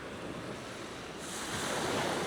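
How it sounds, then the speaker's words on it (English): Steady wind rushing across an open Lake Michigan shoreline at Indiana Dunes, with a broad roar that swells louder partway through; no voices. "It's windy today, but not too bad."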